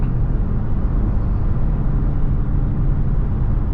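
A Dodge Charger Hellcat driving in traffic, its engine a steady, dense low rumble heard from inside the car, even and unbroken throughout with no talking.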